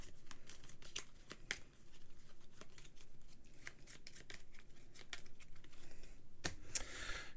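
A quick shuffle of a deck of game cards at a tabletop, a run of soft close riffling clicks and flutters, with a couple of sharper snaps near the end and no talking.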